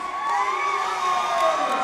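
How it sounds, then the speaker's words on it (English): A crowd at a fight event cheers and shouts as a fighter is introduced, a sustained roar of voices with high yells rising above it, fairly loud throughout. "let's give a big round of applause for Shane Mangis."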